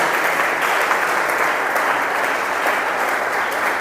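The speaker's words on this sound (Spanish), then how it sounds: "Fuerte ese aplauso para Dios." A church congregation gives sustained, dense applause, an even roar of many hands with no pause, loud and close.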